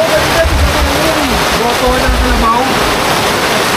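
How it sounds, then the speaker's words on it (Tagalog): Heavy rain pours on a roadside stop during a drive from Lipa, Batangas to Sariaya, Quezon. It makes a loud, steady wash of noise, with someone talking over it. "Kaya mga kachokaran, ang lakas ng ulan."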